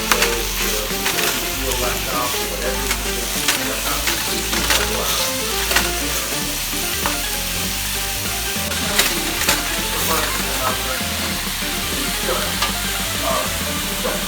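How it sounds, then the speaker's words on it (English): Garlic, onion and ground pork stir-frying in a pan for egg rolls, a steady loud sizzle with scraping and stirring clatter throughout, and occasional faint voice in the background. "I put the garlic and the onion. I put the ground pork. Mix it together."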